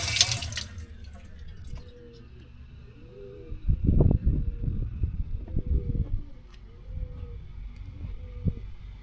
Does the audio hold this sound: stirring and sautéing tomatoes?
no